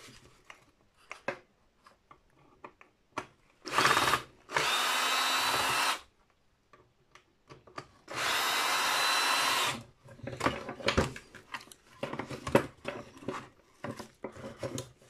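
A power drill removes screws from an electric motor salvaged for scrap, with two loud, close whirring bursts of about two seconds each, surrounded by scattered clicks, rattles and handling noises.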